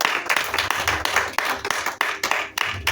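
A church congregation claps together in praise of the Lord, a loud run of sharp, rhythmic hand claps at a steady beat, close and continuous with no talking.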